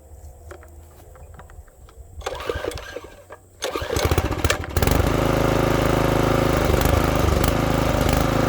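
A gas-powered garden tiller churns through garden soil, starting with a sputtering low idle that surges into a loud, steady, close-up engine roar under load.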